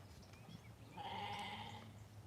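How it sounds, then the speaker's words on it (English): A sheep bleating, one wavering, nasal cry of about a second rising out of a faint low hum, moderately distant and quiet. "Hush your face, sheep."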